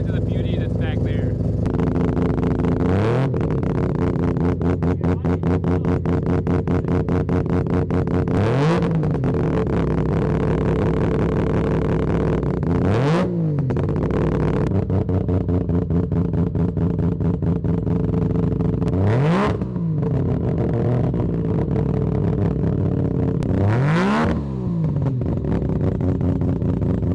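Three-rotor Mazda RX-7 engine revving through a loud exhaust that has a crisp rattle, settling into a steady buzzing idle broken by five sharp throttle blips that rise and fall, with brief talk mixed in.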